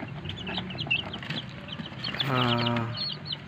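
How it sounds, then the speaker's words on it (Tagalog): Six two-week-old Gilmore Hatch gamefowl chicks, sired by a Gilmore Hatch and out of a Robles Hatch hen, give soft scattered peeps, then a louder, clearer run of calls near the end; no one speaks. "mayroon tayong bagong pisa dito na 6 na piraso. 2 weeks old na sila."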